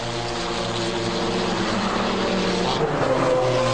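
GT race cars, including a Ferrari GT4, roar past on a racetrack, a loud steady engine drone with shifting tones and a pass swelling near the end.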